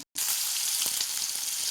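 Panch phoron hitting hot oil in a pan while cooking for potato chops: after a split-second of silence, a loud, dense sizzle bursts in close up and holds steady with faint crackles.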